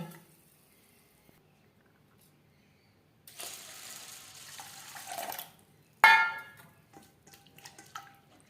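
Masoor dal lentils being rinsed and cleaned in water by hand: a quiet start, then a couple of seconds of close swishing and splashing, followed by a sharp clatter and a few lighter sloshes.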